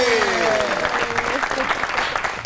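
A studio audience applauds to welcome a guest onto a comedy talk show, a short burst of dense, steady clapping with a brief tonal sweep at the start.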